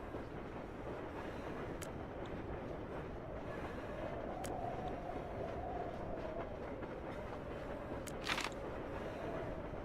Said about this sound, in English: I wish there was a way to speed up the train, though.